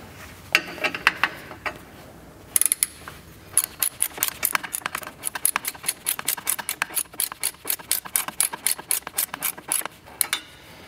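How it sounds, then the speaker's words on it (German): A hand ratchet tightens an exhaust hanger on an Audi S6 with a V10 engine, a fast run of sharp metallic clicks in repeated bursts, close and clear with no talking. "Ich schaue mal, ob ich mit der Ratsche hinkomme."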